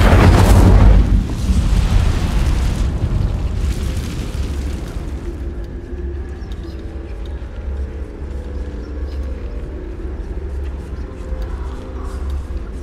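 Incendiary spell detonation in Hogwarts Legacy: a loud booming blast at the start, followed by a long roaring fiery rumble that slowly fades over several seconds.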